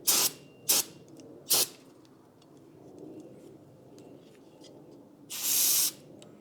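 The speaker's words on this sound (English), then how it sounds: "I'm just going to spray some brake cleaner on it" Several short bursts of brake cleaner aerosol sprayed onto bolts, three quick hisses and then a longer one, loud and close, with quiet pauses between them.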